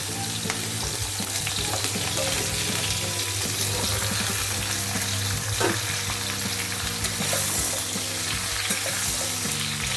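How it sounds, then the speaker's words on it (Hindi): Vegetables frying in a little oil in a kadhai, a steady broadband sizzle running continuously and close up, with faint clinks of stirring and no voices. "मसाला का कढ़ाई में हमने थोड़ा तेल डाल दिया है और उसी में हम ये सब्जी फ्राई करके ले लेंगे।"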